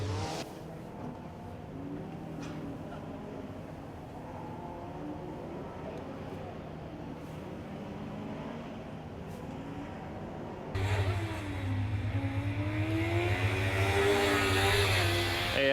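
A Formula Student race car runs the skidpad, its engine droning at a distance, then rising into a louder, closer revving whine near the end, with commentators talking over it throughout.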